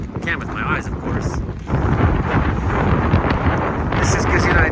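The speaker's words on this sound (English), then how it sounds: "It's so windy." Strong wind blasting across a dark mountaintop during an atmospheric river storm, a loud, continuous broadband roar with gusts buffeting the microphone and swelling louder partway through.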